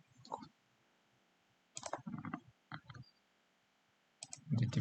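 Bursts of keystrokes on a computer keyboard entering a package name, heard in short clustered clicks with pauses between, fairly close and quiet, with no speech.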